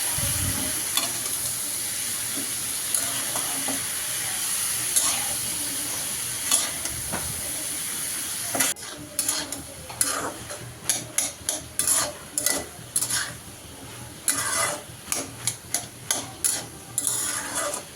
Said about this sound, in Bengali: ভাজিটা বারবার নেড়ে চেড়ে দিচ্ছি।